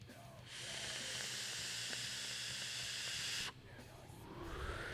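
A vape tank with a rebuildable coil hisses and crackles as saturated juice bubbles during a steady draw of about three seconds, then cuts off abruptly, heard up close in a quiet room.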